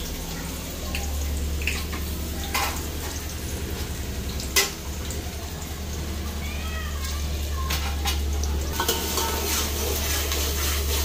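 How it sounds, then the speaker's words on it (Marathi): Whole spices tempering in hot oil for a Malvani-style shark curry give a steady, close sizzle, with stirring scrapes throughout and one sharp knock of a utensil near the middle. "आता या फोडणीक देऊचा. तेल टाकून गरम करून झालेला हा."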